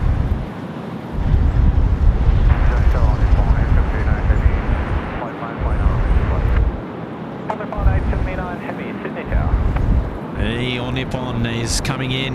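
An airliner approaches to land on runway 25 at Sydney Airport on a windy day: a loud low rumble of jet noise mixed with heavy wind buffeting on the microphone, with a voice talking faintly at moments.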